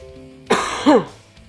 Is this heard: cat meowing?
no